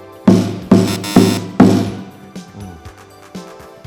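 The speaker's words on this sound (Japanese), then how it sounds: "反対に皮や胴の傷みが激しく皮が緩んでしま" A hira-do taiko with a badly worn body and slack, loose skin is struck four times in quick succession, each hit dull and short, followed by a few fainter knocks and rattles, with no voices.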